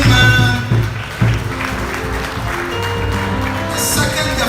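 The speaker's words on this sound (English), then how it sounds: "Please, a better round of applause." Audience applause at a graduation ceremony, steady clapping from a crowd layered under a low humming, tonal background that continues throughout.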